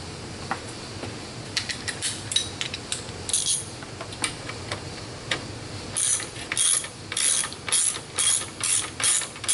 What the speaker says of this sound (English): You guys don't need to see me unscrewing 4 bolts.